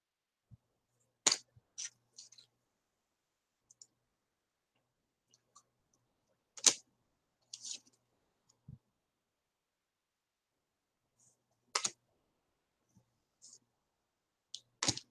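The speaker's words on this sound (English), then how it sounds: "I have to shuffle these a totally different way." Large oversized tarot cards being shuffled by hand, heard as scattered sharp clicks and soft card snaps at irregular intervals in a quiet room, with no talk.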